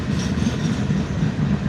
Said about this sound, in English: that's the train that's coming through Gary, through Hammond